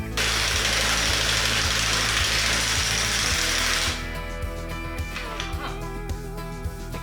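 A power impact tool undoes the brake drum retaining nut on a rusty Citroën 2CV, a loud steady rattling whir lasting about four seconds, then stopping, leaving quieter clicks and handling noises.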